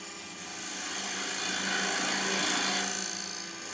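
Wood lathe turning a dovetail on a workpiece for chuck jaws, a continuous scraping, rasping cut that swells gently and then fades slightly, close and unaccompanied by speech.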